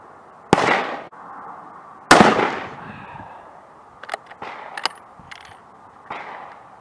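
Two loud, sharp 30-06 rifle shots fired with Staball 6.5 powder reloads at an outdoor range, each with a ringing echo tail, followed by several fainter distant pops.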